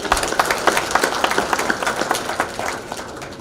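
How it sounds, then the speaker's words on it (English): An audience at a regional economic summit claps for a speaker, a moderately loud spread of individual claps from a modest crowd, fairly even and then thinning slightly toward the end. "So can we clap for him?"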